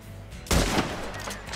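A single loud rifle shot fired at an animal during a hunt in Red Dead Redemption 2, a sharp crack with a short rolling tail that fades out, with no talking.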